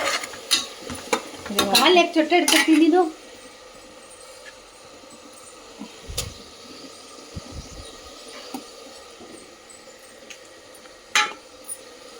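Mint and coriander fry in a pan while being stirred, with loud scraping and clattering strokes for the first few seconds, then a soft steady sizzle broken by occasional clinks of the utensil.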